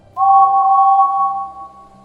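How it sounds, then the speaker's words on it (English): A steady two-tone whistle blows continuously for about two seconds, loud and close, with a low rumble underneath. "James got impatient and gave his whistle a blow."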